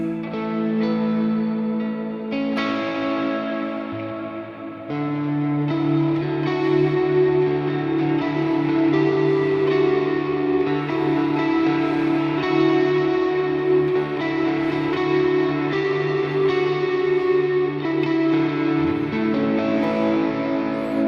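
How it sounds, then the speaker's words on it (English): Sustained electric guitar chords through a Fender Tone Master Pro Deluxe Reverb amp, drenched in a huge large hall reverb, notes washing into each other in a full ambient swell with a few chord changes. "I really like it in conjunction with that large hall reverb"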